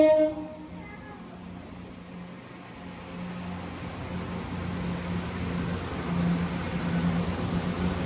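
A passenger train pulls away from Derby station heading for St Pancras International, a low steady engine drone building gradually as it departs, with a short horn-like tone at the start and faint background noise.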